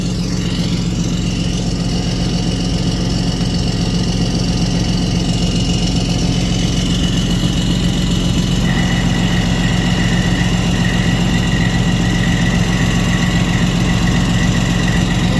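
A truck engine nicknamed Pinky idles steadily after a cold start, a loud, close, deep diesel-like drone with constant low rumble and slight mechanical rattle, no voices over it.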